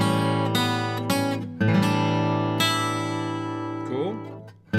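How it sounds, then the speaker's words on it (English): Acoustic guitar strumming the chords of a song, several ringing strums of the middle strings that each sustain and fade, close and clear with no voice over them. "we're going to strum the middle 4 strings of the guitar again"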